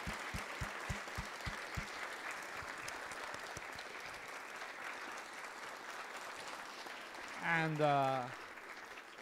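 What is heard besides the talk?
audience applause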